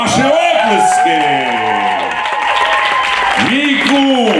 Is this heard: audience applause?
yes